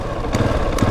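A 2020 Husqvarna 701 SM single-cylinder motorcycle with a fuel dongle fitted runs loud and close, its engine note steady with two brief throttle blips.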